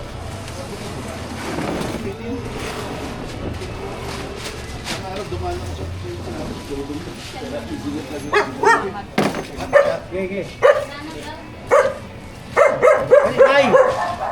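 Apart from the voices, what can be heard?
dogs barking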